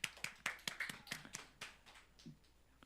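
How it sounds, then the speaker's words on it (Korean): A church congregation claps at the close of a Sunday worship service, giving a quick series of sharp, distinct claps that thin out and fade over a few seconds, close by and with no speech. "우리 박수로 하나님께 영광 돌립니다."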